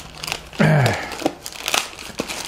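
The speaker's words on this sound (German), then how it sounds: "wir packen das Teil jetzt einfach mal aus" A packaged Arespark AS200 Bluetooth speaker unwrapped from its bag, giving a loud, close burst of plastic crinkling and rustling followed by several shorter crackles and handling noises, with no voices.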